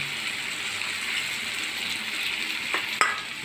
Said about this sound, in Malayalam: ഒരു കുറച്ച് വേപ്പിലയും കൂടി ഇടുന്നുണ്ട് കേട്ടോ